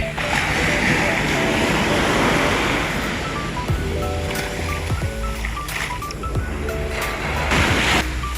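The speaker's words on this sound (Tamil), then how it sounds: "நாங்கள் இப்போ கடலுக்கு வந்துட்டோம்." Sea waves wash onto a beach in Penang with a broad, steady roar of surf and wind. Scattered voices sound faintly underneath, and brief knocks and splashes come through later.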